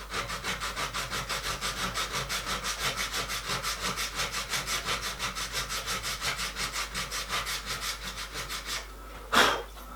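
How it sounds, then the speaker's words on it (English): Metal horn plates for a miniature steam locomotive are filed in rapid, regular back-and-forth rasping strokes, about four per second, close and steady for nine seconds before a single sharp scrape ends the run. "Just clean with a finer file."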